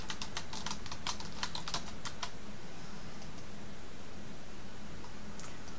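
A computer keyboard typed on to log in to accounting software, a quick burst of close, crisp key clicks for a couple of seconds, then only a steady hiss.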